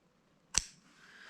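Lace trimmed with scissors while making a junk journal topper: a single sharp snip, close and clear, followed by a soft rustle of the material.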